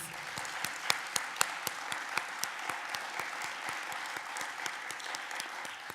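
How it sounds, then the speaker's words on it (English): Sustained applause from a conference audience after a scholarly plenary address, a steady dense wash of many hands clapping at moderate distance, with a few louder individual claps standing out and no talking. "Can you give him another round of applause, please?"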